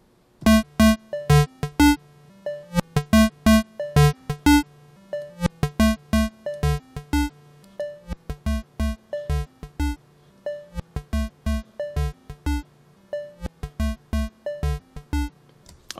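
Electro drum loop programmed in the Massive synthesizer, punchy kicks and clicky hits in a steady repeating pattern with synth notes swelling in alongside each kick, alone without voices.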